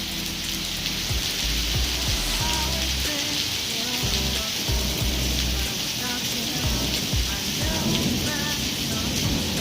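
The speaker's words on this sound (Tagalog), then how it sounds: "Kumukulog-kulog pa yan." Heavy rain mixed with small ice pellets pours steadily in Riyadh, a dense continuous hiss with low thunder rumbling underneath throughout.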